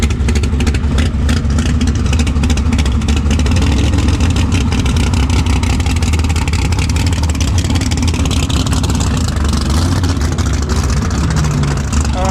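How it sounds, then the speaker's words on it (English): A 1969 Camaro Pro Street car roars down a drag strip in a race against a Tesla Plaid, a loud, steady engine drone filling the whole stretch with a slight shift in pitch near the end. "This 69 Camaro is a no-time Pro Street car to be running."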